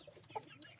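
Chickens clucking in a backyard at midday while being fed corn, with pigeons feeding alongside; soft, close, intermittent clucks with a louder burst at the end.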